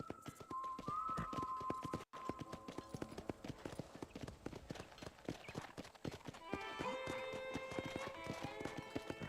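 Horse hooves clip-clop steadily at a ranch corral in the Red Dead Redemption game on Xbox 360, close and rhythmic under a layer of in-game ambience and music, with a horse whinny near the start.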